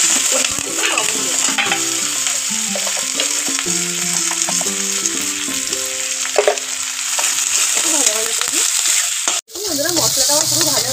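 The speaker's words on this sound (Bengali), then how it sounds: "মশলাটা আমার পুরো ভাজা হয়ে গেছে।" A masala of onion, ginger-garlic, curry leaves and chopped tomato fries in a pan, a steady close sizzle with stirring scrapes running throughout under a tonal background melody, broken by a brief dropout near the end.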